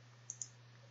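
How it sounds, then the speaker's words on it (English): A computer mouse double-clicks: two small, sharp clicks about a tenth of a second apart over a low steady electrical hum in a quiet room. "I can just double click on"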